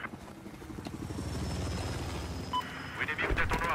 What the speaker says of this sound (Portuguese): Avistei um helicóptero inimigo logo a leste da sua posição atual.